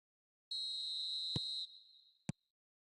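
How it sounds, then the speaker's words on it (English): In an eFootball video game match involving Brazil, a referee's whistle blows one clear, sustained shrill note to start the second half, then trails off, with a couple of sharp clicks. "Whistle goes, and we start the second half."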